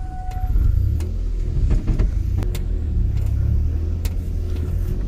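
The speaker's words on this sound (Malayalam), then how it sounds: "നമുക്കിതിൻ്റെ സാധാരണ എക്സോസ്റ്റിൽ തന്നെ ഒന്ന് ആദ്യം ഒന്ന് ഓടിച്ചു നോക്കാം" A Maruti WagonR with its stock exhaust drives along a road. A steady low engine rumble and road noise carry throughout, with a few brief clicks and knocks over the top and no talking.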